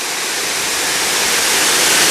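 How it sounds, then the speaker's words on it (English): A waterfall on Prairie Creek spilling over bedrock limestone in Big Woods State Park, a steady loud rushing roar of falling water filling the whole clip, close and unbroken. "this great waterfall here coming off of Prairie Creek"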